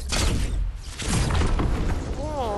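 Shadow bombs going off in a video game during a volcano event: heavy booming blasts rumble almost continuously, layered with crackling debris and ending in a wavering, whistling game tone.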